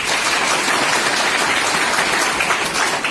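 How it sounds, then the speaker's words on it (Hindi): An audience in a school or classroom setting gives dense, steady applause, honoring a teacher, with many hands clapping together throughout and no voices heard. "ताली देकर बताएं"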